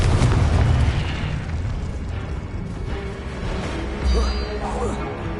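A Confringo fire spell blasts in Hogwarts Legacy, a loud, booming burst that rolls into a dense, rumbling roar and slowly fades, with further crackling blasts toward the end.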